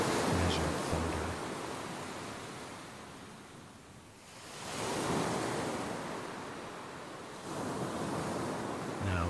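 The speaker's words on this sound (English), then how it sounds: "hear those waves" Ocean surf breaking on the shore in slow, measured swells, each wave rising to a broad roar and then receding, heard alone with a faint wind rush.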